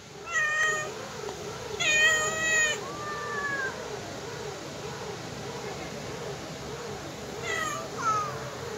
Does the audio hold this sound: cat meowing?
yes